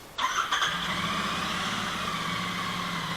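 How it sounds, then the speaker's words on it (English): A Harley or Royal Enfield motorcycle in stock form cranks briefly with a starter whine, then catches and settles into a steady, low idle, close and alone. "So I'm gonna quickly start the bike"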